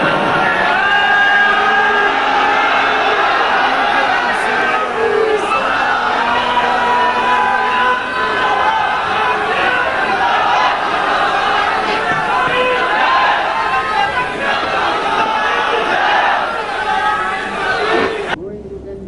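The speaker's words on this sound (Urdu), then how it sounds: "جب تک آپ نعرے لگاتے ہیں" A large crowd at a gathering chants slogans in unison, loud rhythmic shouted phrases repeating over a continuous hubbub for nearly twenty seconds.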